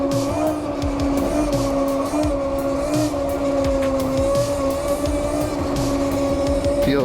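An ETM RTR electric pit bike accelerates with a loud, steady electric motor whine that swells and dips with throttle changes, layered over continuous rolling noise at close range.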